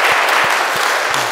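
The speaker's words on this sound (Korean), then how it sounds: "우리 다 같이 박수로 하겠습니다." A church congregation clapping together during a Sunday service, steady dense applause with a few low thumps underneath.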